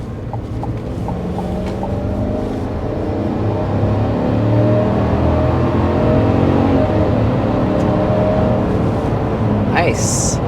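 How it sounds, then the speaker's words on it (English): A 2024 Chevy Silverado 1500 High Country pickup with a 5.3L V8 accelerates hard, its engine drone rising steadily and loud throughout, with a voice talking over it. "let's go ahead and start with a hard acceleration"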